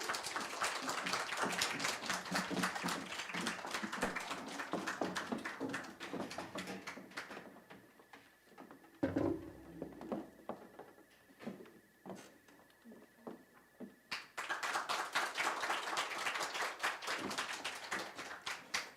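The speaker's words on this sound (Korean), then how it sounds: "큰 박수 부탁드립니다." An audience at an outdoor book festival in Wonju claps to welcome a string ensemble. Dense applause fills the first half, dies to sparse scattered claps, then swells again loudly.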